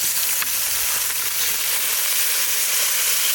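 Snakehead fish frying in a pan in a village kitchen, a loud, steady sizzle of hot oil that fills the whole clip without a break.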